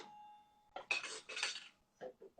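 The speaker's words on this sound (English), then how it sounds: "I'm going to use my whisk." A whisk clattering against a bowl while mixing batter, quick scraping metallic strikes in a few short bursts, close and fairly quiet.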